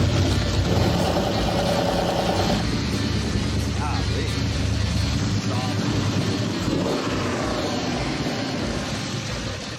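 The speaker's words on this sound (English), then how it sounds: "That exhaust sounds pretty good." A 600 horsepower car engine fires up and runs on a first test after rebuilding, its loud deep exhaust rumble steady under nearby talk for about ten seconds.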